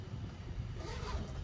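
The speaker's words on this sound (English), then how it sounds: "pull that zipper taut" A zipper on an insulated fabric vent cover is pulled taut in one short, close, fairly quiet zip.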